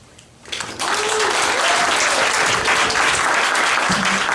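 After a brief quiet moment, an audience at a poetry slam breaks into loud, dense clapping that swells quickly and holds steady, with a few scattered cheers and voices rising through it.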